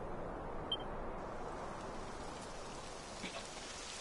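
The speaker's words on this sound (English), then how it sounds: "It would have to go and start raining, wouldn't it?" Steady rain pours down in the Dragon Quest XI video game, a soft even hiss of falling drops with no talk, joined by a couple of faint clicks.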